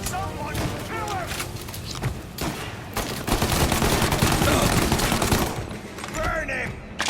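Rapid rifle gunfire rings out in a Mafia: Definitive Edition shootout, with repeated sharp cracks in dense bursts over a steady din of battle, while shouting voices carry beneath the shots.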